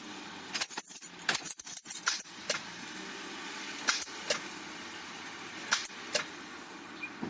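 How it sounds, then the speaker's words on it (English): Toyota starter clicking as the ignition key is turned, sharp isolated clicks and clinks repeating irregularly over a faint background, with several quick bursts in a row then a few more spaced out. "So it clicks whenever I turn the key"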